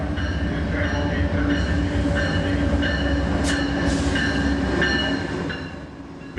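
Amtrak's northbound Coast Starlight passenger train rolls into a station with a loud, steady rumble of wheels and cars, faint squeals and clicks riding on top, before the noise eases toward the end.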